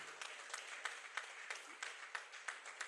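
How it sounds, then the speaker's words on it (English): An accountants' institute gathering gives a quiet round of applause, a thin scattering of rhythmic hand claps heard faintly and at a distance over a few seconds. "please give another resounding clap"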